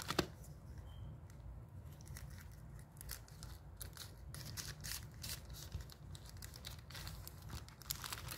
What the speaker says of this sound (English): Alright, let me grab the scissors.